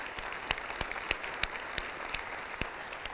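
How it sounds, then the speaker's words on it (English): Applause for Gallatin High School students at an event, with a steady patter of clapping and several sharper, distinct claps standing out at regular intervals, moderately close. "Let's give them a round of applause."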